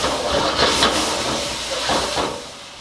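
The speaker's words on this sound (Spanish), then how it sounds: "Ya está, mira, sí, una flameadita" A flambé flare in a pan of broccoli and chicken pieces being stir-fried oriental style, giving a loud, continuous hissing whoosh that swells and eases over a few seconds.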